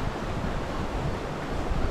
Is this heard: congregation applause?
no